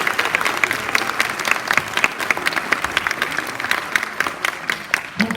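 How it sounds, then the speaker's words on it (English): Audience applause at a school community kickoff closing session, steady dense clapping from a sizable crowd throughout, fairly loud and continuous with no speech over it. "Let's give a round of applause."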